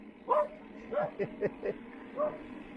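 A dog yips and barks in a short series of about six quick, mid-distance calls spread over a few seconds, with a faint low background hum between them.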